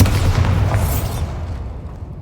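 A Bombarda blast spell from Hogwarts Legacy erupts as one heavy, booming explosion with a bright crackling burst that rolls out into a fading rumble over about two seconds, heard alone.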